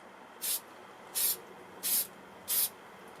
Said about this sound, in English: Is that classed as 1 light spray?